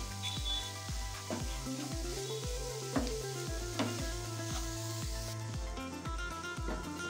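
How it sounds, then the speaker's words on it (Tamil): Cooked rice is stirred into sautéed guava in a hot pan for guava rice, with a continuous sizzle and repeated scraping and stirring strokes close by, without speech. "இன்றைக்கி இதை போட்டுட்டு சாதத்தை மிக்ஸ் பண்ணிடலாங்க"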